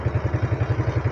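A running Yamaha Mio Soul scooter engine, just fitted with new piston and rings, idles with a steady, fast, loud valve clatter pulsing evenly and close by, alone with no talk.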